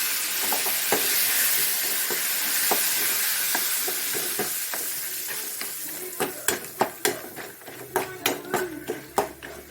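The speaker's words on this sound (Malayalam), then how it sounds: "വീണ്ടും അതിനെ ഒന്ന് മൂപ്പിക്കട്ടെ, മൂക്കാൻ കിടക്കട്ടെ." A traditional Kerala snack fries in a little oil, sizzling steadily under a faint hiss while a spoon stirs it with a run of sharp metallic scrapes and clinks that grow frequent and loud toward the end.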